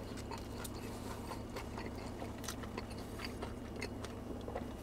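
Someone bites and chews a crunchy tomato pie pizza with garlic and basil, giving close, faint crackling crunches scattered over a low steady background.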